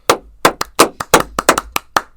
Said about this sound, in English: And we got to do claps first.